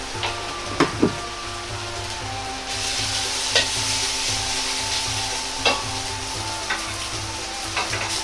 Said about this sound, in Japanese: ちくわと野菜を鍋に入れ炒めていきます。